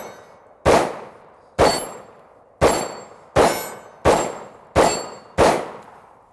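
Seven sharp, loud shots from a Hi-Point carbine and C9 pistol fire at a steady, slightly uneven pace, each crack followed by a short ringing decay.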